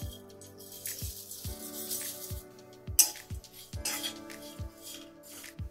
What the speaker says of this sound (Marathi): आपण फक्त पोहे भाजून घेणार आहे.